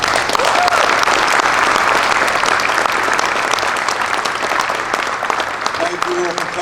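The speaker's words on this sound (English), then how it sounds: "I ask for a round of applause" Sustained applause from a ceremony audience honoring veterans at a Dropping of the Roses event, dense steady clapping filling the whole stretch at even loudness, with no voices above it.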